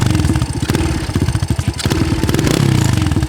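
A nearby motorcycle engine running with its carburettor throttle pin not yet adjusted, throbbing in a loud, uneven beat with a short rev.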